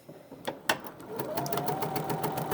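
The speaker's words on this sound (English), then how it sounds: "I'm just going to put that previous pin tuck right in that channel and stitch away." A BERNINA 46C sewing machine stitching pin tucks, starting with a few clicks and knocks, then running at a steady, fast mechanical whir with a rapid needle chatter, close up and alone.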